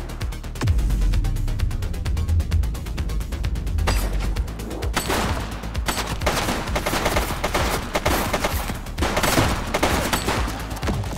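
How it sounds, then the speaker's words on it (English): Sustained heavy gunfire from a suspect in the police game The Precinct, a dense, loud fusillade of rapid shots and crashing impacts running continuously without pause, no voices over it. "He's shooting!"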